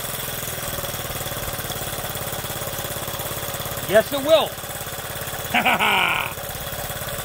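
Small Honda Z50 motorcycle engine idling steadily after its first start, a continuous low putter running throughout, with someone speaking briefly over it.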